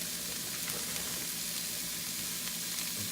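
Shredded cabbage sizzles steadily in a hot pan as a new batch goes in, a continuous close frying hiss with no voices.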